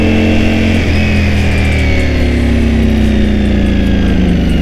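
Loud, close engine drone of a Ducati Panigale V4S with a dry clutch, running steadily at idle with slight pitch drift and no one talking.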